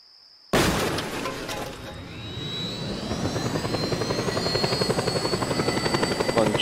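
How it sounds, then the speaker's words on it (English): A spawned helicopter in Just Cause 2 multiplayer on PC starts up abruptly after a moment of near silence, its rotor beating into a loud, steady, rhythmic thrum with a whining turbine, close and alone. "let's actually just spawn ourselves a helicopter right now"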